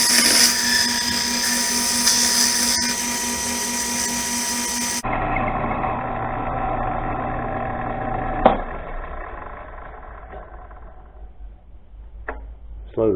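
A machine cutting a special bolt at a slow feed rate whines with a steady, dense tone that drops to a quieter running hum partway through, followed by a couple of sharp clicks.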